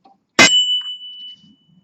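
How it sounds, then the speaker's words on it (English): A single bright ding from the bell on a Boardman CX Comp bicycle, struck once close by and ringing out for about a second before fading, with no talking. "Rubbish bell."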